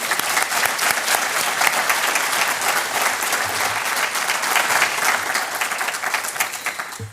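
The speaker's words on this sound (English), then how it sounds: "Can we have a round of applause for them?" A lecture audience applauds steadily for about seven seconds, a dense even wash of many hands clapping with no talk over it, easing off at the end.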